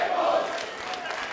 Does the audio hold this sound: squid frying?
no